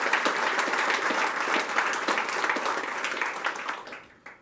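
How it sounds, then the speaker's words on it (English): An indoor conference audience gives a sustained round of applause, dense clapping filling the room at steady volume before tapering off in the final second. "can we just give them a round of applause"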